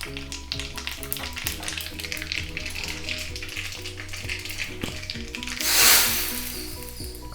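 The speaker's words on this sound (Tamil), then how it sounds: "ரசத்துக்கு நெய்யில் தாளிச்சிடலாம். கொஞ்சம் கடுகு, கொஞ்சம் சீரகம்," Mustard seeds and cumin sizzle in hot ghee as a tempering for rasam: a steady frying hiss with scattered small pops that swells briefly louder near the end, under background music.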